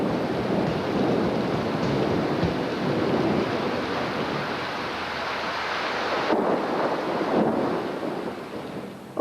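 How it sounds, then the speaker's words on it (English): A loud thunderstorm roars steadily with heavy rain, wind buffeting and deep rumbles of thunder, continuous and close throughout with no voices. "I've never heard a storm like this, have you?"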